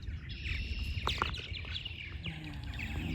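Purple martins call around their nest sites, a chorus of chirps and gurgling twitters from several birds at moderate distance over outdoor background noise.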